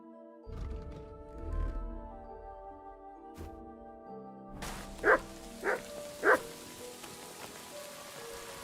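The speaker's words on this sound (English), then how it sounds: "What are you barking at, dog?" Dog in the Kingdom Come: Deliverance video game giving three short, distinct barks in quick succession over a soft steady rain-like background and quiet game music.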